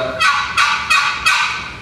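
A hand-held turkey call yelps in four quick loud bursts, imitating a wild turkey, close and alone with no talk.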